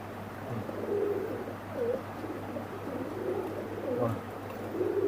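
Pigeons cooing softly in a loft, a repeated low murmuring coo that rises and falls in short phrases over a steady background hum, fairly close.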